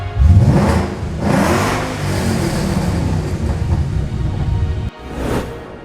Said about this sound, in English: the proof is in the sound of the engine and the horses on the dyno. Sweet, sweet V8 rumble.